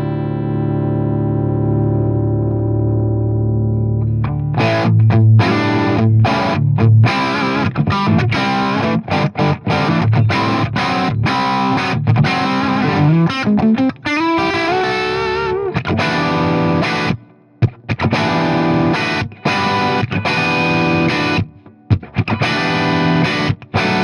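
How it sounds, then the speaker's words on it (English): An electric guitar through a Fender '65 Deluxe Reverb tube amp that distorts quickly plays loud, continuous chords and runs, with short gaps between phrases and a crunchy, saturated tone. "I did notice that it starts to distort pretty quick"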